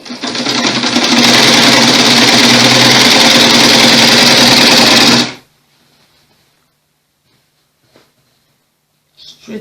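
A sewing machine stitching a blouse runs in one loud, steady whirring burst for about five seconds, then stops abruptly, leaving near silence with a few faint clicks.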